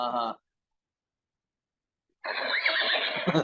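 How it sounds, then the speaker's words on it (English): A horse neighing sound effect: a brief whinny burst, a pause of near silence, then a longer, louder, wavering neigh that carries to the end. "I'm specifically choosing the sound effect of the horse"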